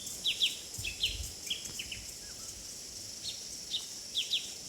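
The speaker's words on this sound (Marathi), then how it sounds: "पक्ष्यांचे आवाज ऐकताय ना." Small birds chirp in quick paired tweets by a village river in summer, fairly faint and spaced out over a soft outdoor hush.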